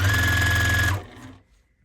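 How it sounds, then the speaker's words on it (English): A spare home sewing machine stitches a scrap quilt block with a steady, loud mechanical whir that runs for about a second, then stops abruptly and leaves a fading hum. "She's my spare machine, so to speak, but shows a beautiful stitch."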